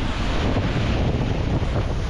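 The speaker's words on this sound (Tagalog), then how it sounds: "malakas ang alon dito sa Pasipikos ngayon" Loud, continuous roar of heavy Pacific Ocean surf crashing off Mindanao, with strong wind buffeting the microphone throughout.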